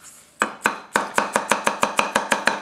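A Tetsuhiro Handhammer White #1 240 mm gyuto knife chops onion on a cutting board: about eleven crisp, close knocks in a quickening, steady rhythm after a short quiet start.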